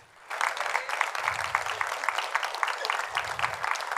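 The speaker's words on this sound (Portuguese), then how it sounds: "Vamos aplaudir ao Senhor?" Applause from a church congregation, a burst of clapping that starts abruptly and holds at an even, lively level with distinct claps, under a faint low murmur.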